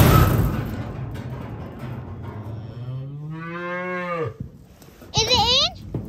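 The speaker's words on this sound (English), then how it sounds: "Cow, moo, moo." A cow lows with a long, rising and falling moo at close range, and a second shorter, higher call follows after a brief pause, set against outdoor rumble.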